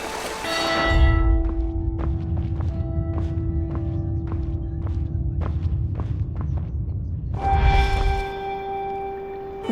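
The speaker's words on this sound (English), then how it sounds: "bells ringing?" Bells ring in an eerie place in the video game Where Winds Meet: a resonant toll sustains and fades, soft rhythmic thumps of footsteps follow, then a second bell strike rings out near the end.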